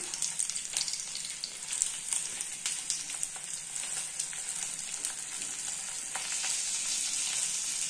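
Fish wrapped in banana leaf frying in a pan for Kerala meen pollichathu, a continuous bright hiss and crackle of hot oil, steady and close throughout, with faint occasional scrapes and no voices.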